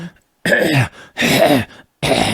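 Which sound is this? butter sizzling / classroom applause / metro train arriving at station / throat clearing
throat clearing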